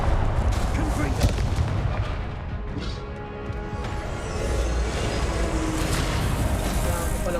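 Confringo fire spell cast in Hogwarts Legacy, loud booming blasts and crackling impacts in quick succession amid dense game combat noise.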